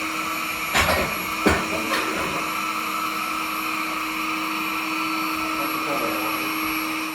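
Eziclean Hobot 388 window-cleaning robot running on glass, a loud, steady suction whine with a fixed tonal hum, broken near the start by two or three sharp knocks as it moves.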